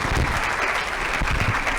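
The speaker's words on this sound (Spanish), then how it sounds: "Quiero que le demos un aplauso" A symposium audience applauds at a nutrition talk, a dense, steady wash of clapping filling the room throughout without pause.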